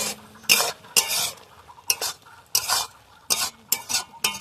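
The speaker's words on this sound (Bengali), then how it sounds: "আমি ভালোভাবে নাড়িয়ে নেব" Soybean curry with egg being stirred in a pan, a series of loud scraping strokes from a spoon on metal in an irregular rhythm, with a soft sizzle between them.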